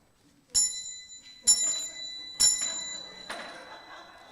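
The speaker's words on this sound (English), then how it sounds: "Ring the bell." Three bright rings of a small bell at roughly even intervals during a church service, each with a short ringing decay, followed by a rustling clatter.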